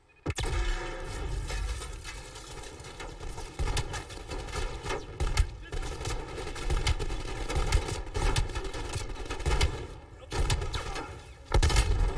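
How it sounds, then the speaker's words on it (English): Desert Eagle hand cannon fire in the video game Call of Duty Black Ops Cold War: sharp, punchy shots ring out repeatedly in quick bursts over dense in-game battle noise and rumble. "Oh my god, the hand cannon is so strong."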